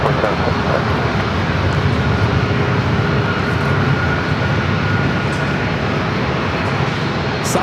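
A Southwest Boeing 737 MAX 8 jet airliner roars at San Diego airport, a loud, steady broadband engine rumble that holds throughout without fading.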